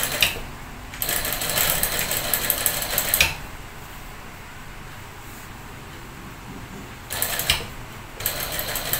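Sewing machine stitching a skirt, rapid mechanical whirring bursts of stitching separated by quiet pauses, close and clear.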